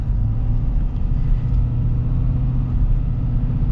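A 2025 Ford F-350 Tremor Super Duty diesel pickup with a 10-speed transmission pulls away under steady acceleration, a deep continuous rumbling engine drone heard from inside, loud and unbroken throughout.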